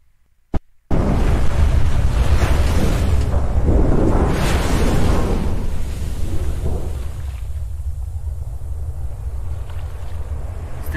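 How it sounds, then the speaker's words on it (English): A heavy water splash for a ship's landing in a Titanic sinking sound design: a sharp thump, then a loud broad wash of surging, roaring water that thins and settles into a steady rushing hiss. "Use this splash for the landing."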